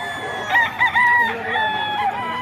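A stag rooster, a young gamecock, crows close and loud in a single drawn-out call with rising and falling pitch against a quiet background.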